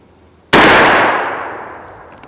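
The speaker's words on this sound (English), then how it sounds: "this will be our last shot of the day, and got Mary that's going to see how this thing hits at 20 yards" A Stevens Model 301 .410 shotgun fires a single TSS load at a 20-yard target, one sharp loud blast that rings out and decays over about two seconds, with no talk.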